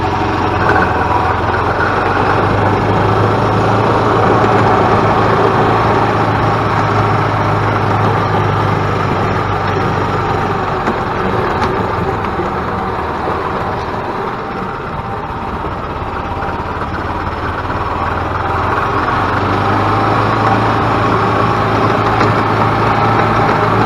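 Rebuilt Yamaha golf cart engine running steadily and loudly at close range, a continuous even drone with a slight dip in the middle.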